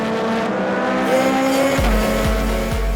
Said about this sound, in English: The battle for the lead in the Sport 2 class between Michiel Kaars and Rob Neiman in their Clios.